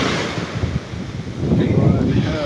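Stormy ocean surf at a beach, with a steady wash of breaking waves and wind buffeting the microphone, swelling louder in the last second.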